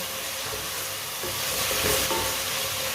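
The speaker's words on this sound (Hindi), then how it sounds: "टमाटर को भी 2-3 मिनट के लिए पका लेंगे।" Tomatoes sizzle and fry in a pan for an aloo gobi dish, a steady close hissing crackle that swells slightly midway, with no talk.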